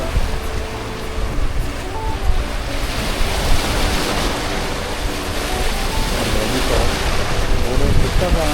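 Ocean surf off Malapascua breaks in from both sides of a long sandy beach. It is a loud, continuous roar of churning water with gusty wind noise on the microphone throughout.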